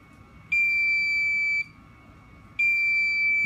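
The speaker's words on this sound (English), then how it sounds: "So that's a little beeper" A small beeper driven by a 555 timer oscillator, built as an Ed Leedskalnin oscillator, sounds two steady, high-pitched electronic beeps about a second long each, separated by a short gap, close and alone.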